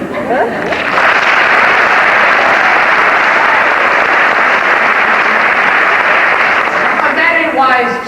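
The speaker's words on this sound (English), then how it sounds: "Pray, indicate by your applause." A theatre audience at a touring performance of The Mystery of Edwin Drood breaks into loud, dense applause with cheering that holds steady for several seconds. A voice can be heard briefly at each end.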